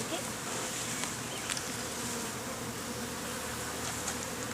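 Honeybees buzzing around an open hive during an inspection, a dense, continuous drone that stays even and close throughout, with no talk.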